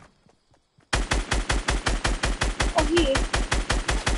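Rapid automatic gunfire in Fortnite: Battle Royale bursts in suddenly after near silence, a loud, steady stream of evenly spaced shots, with a player speaking briefly over it.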